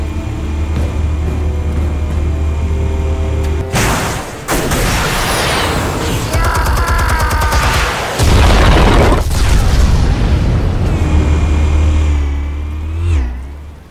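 Loud explosive blasts and booms from a Batman video game, several heavy bursts over a rumbling low drone, with bright crackling impacts around the middle and a sweeping tail at the end; no talking.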